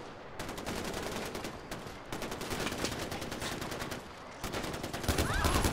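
Rapid bursts of automatic gunfire from the video game Far Cry 4, fired in long rhythmic volleys with brief pauses, loud and close, with a faint voice underneath.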